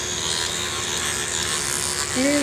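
Electric vibrating toothbrush running with a steady, close buzzing hum throughout, a brief higher tonal whine near the end.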